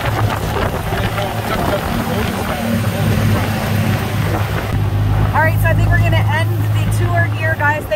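Rumbling three-wheeled tuk-tuk ride through Bangkok streets on a bumpy road, with a steady low engine drone and wind buffeting throughout, traffic noise around, and people talking over it.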